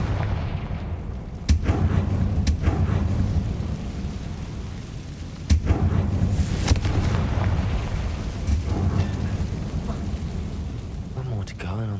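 Confringo fire spell blasts in a Harry Potter style video game, heavy booming explosions at about 1.5 and 5.5 seconds over a continuous loud rumbling game soundscape, with a player's voice speaking at points.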